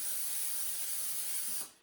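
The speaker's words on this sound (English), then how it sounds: "we're going to spray our crock pot with Pam." Pam cooking spray hisses in one steady, close aerosol burst into a crock pot, cutting off sharply after about a second and a half.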